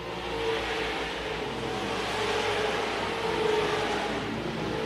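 Race cars circle a racetrack near the end of a race, producing a continuous broad engine roar heard from a moderate distance, swelling and easing slightly as they pass.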